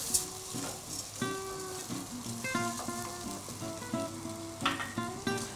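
Risotto rice toasting in a pan with tomato sauce and salt cod, a continuous close sizzle broken by stirring clinks and scrapes, with no talking.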